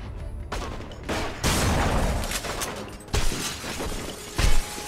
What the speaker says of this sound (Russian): Кто-то стреляет по мне тут.